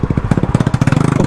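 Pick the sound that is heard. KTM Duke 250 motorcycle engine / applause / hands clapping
KTM Duke 250 motorcycle engine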